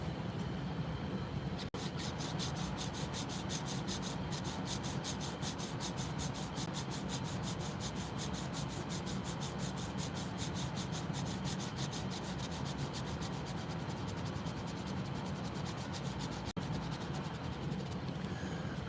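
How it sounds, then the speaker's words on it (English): A rubber eraser scrubs rapidly back and forth on paper, a close, steady, rhythmic scratching that continues without a break. "I feel like all the eraser marks I'm making over here is making things worse."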